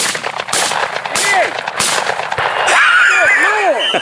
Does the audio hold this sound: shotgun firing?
yes